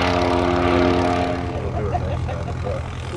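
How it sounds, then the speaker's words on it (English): A Piper Cub propeller seaplane passes at a fly-in on the water at Grand Marais, Michigan, its loud buzzing engine drone fading as it moves off, with crowd noise and faint voices underneath. "It's a piper aircraft."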